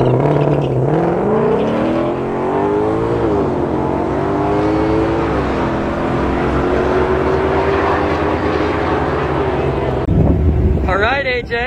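Ford Shelby GT500 engines run at a drag strip, a loud, steady roar that climbs in pitch as they rev, then holds a sustained drone, with a rougher burst near the end.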